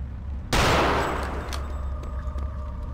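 A single loud gunshot rings out in Return to Castle Wolfenstein, a sharp close crack with a decaying tail, followed by a few fainter clicks and shots over a low background hum.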